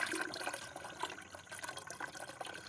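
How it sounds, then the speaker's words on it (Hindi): Water strained from a container of soaked banana peels into another container, a steady trickling, splashing pour close by with no talk, running evenly throughout. "तो सबसे पहले मैं इसी डब्बे में इस पानी को थोड़ा छान लेती हूँ।"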